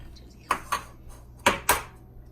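Egg cracked and dropped into a mixing bowl for gingerbread dough: a few crisp taps and clinks against the bowl in two quick pairs, close and clear with no talking.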